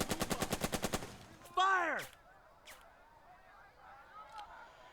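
A burst of about ten rapid, sharp shots fired at an enemy machine-gun position in the World War II tactics game Burden of Command, during an assault on Casablanca, followed by a short whooshing sound effect and quieter battle noise.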